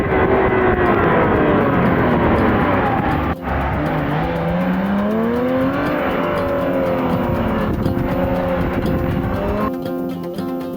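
Porsche 996 911 GT3 MK1 Clubsport prepared by Manthey Racing, its Mezger engine revving loud and close, pitch sweeping up and down in continuous harmonic wails with a brief dip around a shift.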